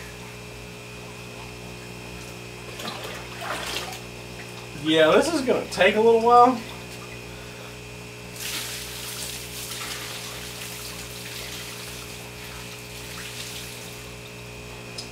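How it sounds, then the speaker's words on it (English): Water is poured from a pitcher into a 180-gallon rimless aquarium tank set up as a store display, making a steady, fairly close splashing wash over a constant mains hum, with someone talking briefly before it. "We've got water in the tank."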